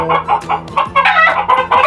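Derby gamefowl roosters cluck in a steady run of close, loud, repeated calls, with several overlapping bursts and no talking.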